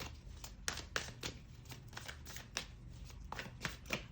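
Tarot cards are drawn and handled during a reading, giving a series of soft, close flicks and snaps spaced irregularly over a quiet background.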